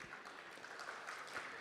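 A round of applause at a film event, heard as faint, distant, steady clapping that fills the short moment without a break.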